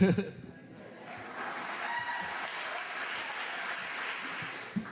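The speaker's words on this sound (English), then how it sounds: "gonna give me a clap off the stage." Applause from the audience at the Tennessee Alliance for Progress Long Haul Awards 2012 swells after a short spoken line, then holds as a moderate, steady clatter of clapping in a large room.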